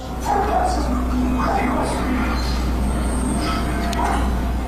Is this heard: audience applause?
no